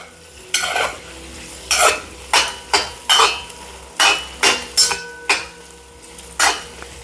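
Food cooking in a pan on a home gas stove for Azerbaijani jiz-biz, with a steady sizzle under repeated sharp bursts of a spoon stirring and scraping against the pan, about ten strokes in seven seconds.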